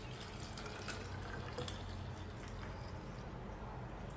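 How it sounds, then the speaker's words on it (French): Water pours steadily into a protein shaker bottle, a continuous close splashing rush that runs the whole time without a break. "Je mets de l'eau dans mon checker."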